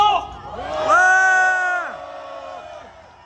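A crowd at an outdoor rally opposing a presidential impeachment yells and cheers together, with a loud swelling chant that peaks and then fades back under scattered voices.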